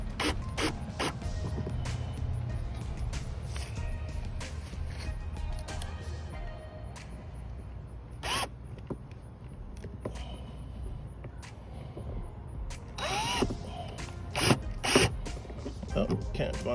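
Screws being backed out of an RV door latch with a ratcheting tool, giving repeated close clicks and short mechanical turns with scattered knocks, under a faint background hum.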